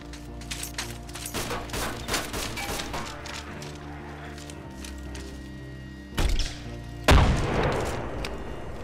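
Bursts of gunfire in the DayZ video game crackle in rapid, uneven volleys over the first few seconds, followed by two heavier, louder blasts near the end.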